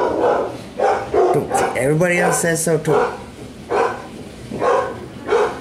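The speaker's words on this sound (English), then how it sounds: "this would be counterproductive if you were to let the dog in when he barks" A large dog barks repeatedly outside a door, wanting to come in, with loud, evenly spaced barks and a short whine while someone talks over it.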